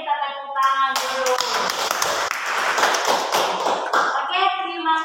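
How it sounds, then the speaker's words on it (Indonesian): A classroom of students claps after a group presentation, a dense burst of hand claps lasting about three seconds, with talking voices heard before and after it. "Berarti kita tepuk tangan dulu."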